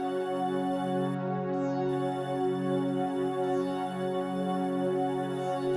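A sustained synthesizer pad for a progressive house track, filtered to bright airy highs, holds a steady shimmering chord with dense stacked harmonics, loud and continuous with no voice.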